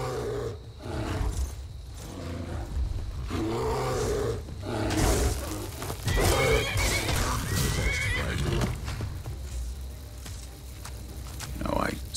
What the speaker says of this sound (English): I so wish this horse wouldn't be so aggressive.